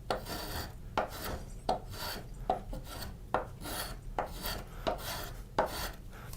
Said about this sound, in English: With the spoke shave, I'm going to refine this.